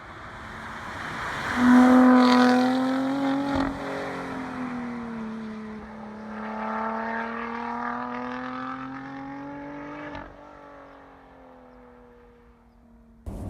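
The Lotus Evora GT430 engine pulls hard on the road, its tone climbing through the revs with a smooth rising howl, easing off, then building again, heard from inside the car.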